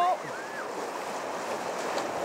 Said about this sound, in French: c'est une vague de boue quand même